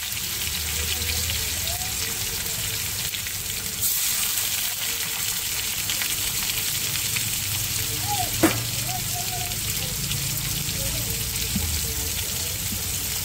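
Chopped medium-sized tomato frying in a pan with whole cumin, a steady close sizzle and hiss with a brief clatter partway through, under faint intermittent talk.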